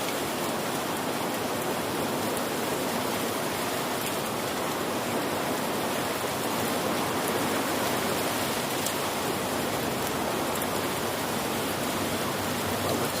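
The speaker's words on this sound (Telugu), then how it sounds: "చిన్న వర్షం కాదు సార్," Heavy rain falls at night in a steady, dense hiss that stays even throughout, with no voices.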